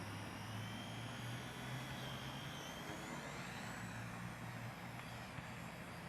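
A small beginner RC helicopter hovers and maneuvers nearby, its electric rotor motor giving a continuous buzzing whine with a steady hum underneath.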